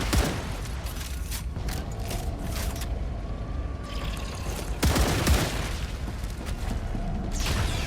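Weapon magazines swapped in the sci-fi game StarRupture: metallic clicks and clacks of the reload over a loud, steady wash of in-game ambience and machinery, with a sharp thump near the middle.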